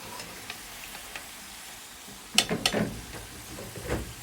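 Food fries in oil for a chicken maqluba, a soft background sizzle with sharper crackles and clatter of stirring or lifting pieces midway.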